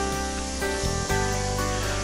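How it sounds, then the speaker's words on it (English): A spray gun applies finish to an oak cabinet, giving a continuous close, loud hiss with slight shifts in tone as the gun moves, no voices. "So now I'm just going to start spraying where I left off as if I didn't stop before."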